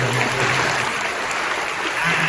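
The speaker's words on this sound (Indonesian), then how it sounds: "Kita kasih tepuk tangan dulu" Audience applause at an indoor church revival service in Batam, a dense steady clatter of many hands clapping throughout, fairly close and without talk.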